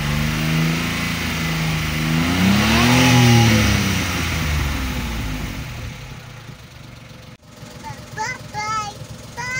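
A red Daihatsu Charade Turbo starts after fuel pump repair work, its engine cranking and catching with a loud revving swell, then settling into a steady idle close by while someone briefly speaks near the end.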